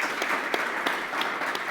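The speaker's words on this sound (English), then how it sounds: "Round of applause for our speakers and for all of our speakers this week" Audience applause for panel speakers at the LSI Europe conference, a brief burst of dense clapping from a crowd, even and moderately loud.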